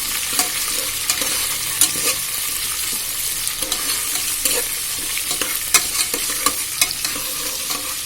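Tomato, onion and dried red chillies fry in a pan with a continuous loud sizzle, while a utensil stirs and scrapes in frequent small clicks throughout.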